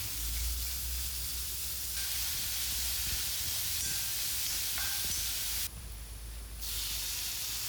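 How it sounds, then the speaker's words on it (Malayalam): Onions and green chillies sauté in coconut oil in a pan, giving a steady, fairly quiet sizzling hiss that runs throughout with a brief change in texture near the end. "ഉള്ളിയും പച്ചമുളകും കൂടി നമുക്ക് ആദ്യം തന്നെ വഴറ്റിയെടുക്കാം."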